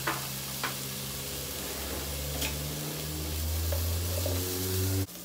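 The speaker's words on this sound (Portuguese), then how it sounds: "e eu vou jogar o bacon. Eu começo primeiro com o bacon." Bacon frying in a pan, a quiet, steady sizzle with a few soft crackles and pops over a low hum that cuts off abruptly near the end.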